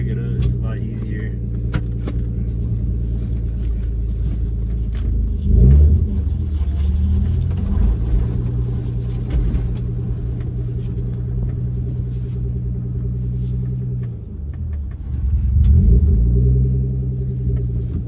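BMW E36 idling close by, its engine a steady low hum that rises in two brief revs as the car backs up and maneuvers, with small rattles and clicks over the constant rumble.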